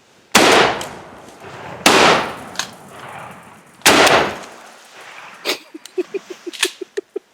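Three loud gunshots during a turkey hunt boom out a couple of seconds apart, each echoing away, followed by a quick flurry of small sharp clicks and pops.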